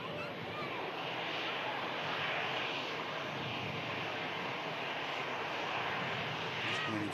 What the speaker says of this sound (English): Just coming into shot and arriving EasyJet there.